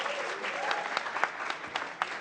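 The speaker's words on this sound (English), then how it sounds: "please, clap for them" Audience at a banking and finance challenge show clapping steadily, a dense, even patter of many hands with a few sharper claps standing out, fairly close and sustained throughout.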